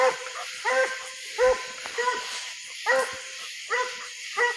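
A hound puppy lets out repeated high whimpers and yelps with a few short barks mixed in, fairly close, in an irregular series over quiet background.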